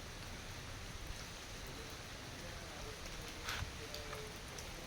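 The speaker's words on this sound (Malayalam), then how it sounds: "നല്ല മഴ പിന്നെയും പെയ്യുന്നുണ്ട്" Steady hiss of falling rain, fairly faint and continuous, with a few brief patters standing out.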